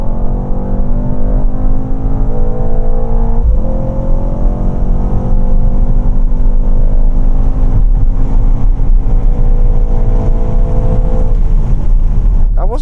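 A Mercedes-AMG GT 63 engine roars loudly and continuously during a hard launch, revving up through rising pitch with a gear change partway, harsh and close, with some talk beneath.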